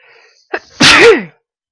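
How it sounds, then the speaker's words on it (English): A single loud sneeze up close, with a short sharp intake of breath just before the burst. "I'm going to sneeze again."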